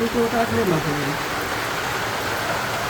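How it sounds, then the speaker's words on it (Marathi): Heavy rain pours in a village during the Vat Purnima season, a steady close wash of noise, with a voice briefly heard near the start. "आता वाढला बरं का पाऊस"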